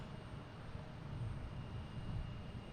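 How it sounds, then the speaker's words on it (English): JetBlue jet airliner taking off on runway 27 at Boston Logan, a distant low rumbling roar that swells slightly, steady and fairly faint with no talk. "we got a JetBlue heading to Bermuda, taking off on 27."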